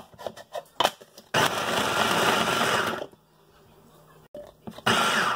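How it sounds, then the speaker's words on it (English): Garlic being blended, with short choppy pulses followed by a longer whirring blend, a pause, then another run of the motor, heard close in a home kitchen. "So I'm gonna go ahead and blend the garlic."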